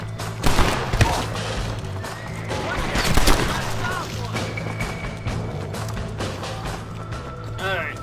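Gunfire in Red Dead Redemption: Undead Nightmare, several sharp shots and bursts at moderate loudness mixed with game effects and horse sounds, with people talking over much of it.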